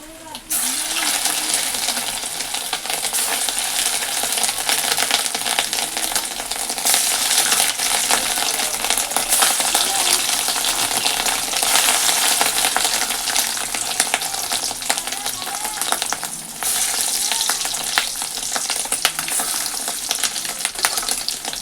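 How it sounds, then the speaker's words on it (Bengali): Eggs fry in hot oil in a home pan, a steady broadband sizzle and crackle running almost unbroken for over twenty seconds, loud and close, with occasional clinks and stirring. "এই যে ডিম এতটা হয়েছে এখানে ভেজে রেখেছি, আর এই যে এখানে ভাজছি"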